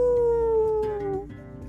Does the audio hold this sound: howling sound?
yes